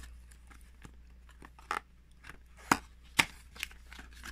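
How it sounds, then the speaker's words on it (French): A box of Chatr SIM cards is opened by hand in a shop, with faint scattered crackles, snips and sharper cardboard clicks near the end, and no voices. "On va ouvrir la deuxième boîte."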